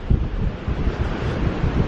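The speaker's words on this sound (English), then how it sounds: "some unseasonably windy weather" Strong wind buffets the microphone on a beach in continuous low gusts, blowing sand, with a faint wash of surf underneath and no voices.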